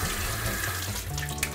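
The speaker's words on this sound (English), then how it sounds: "Rinse them off under the water." Tap water runs steadily as hands are rinsed under a faucet at a sink, a loud continuous close-up gush with no voices.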